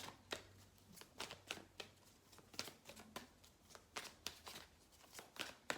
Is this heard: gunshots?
no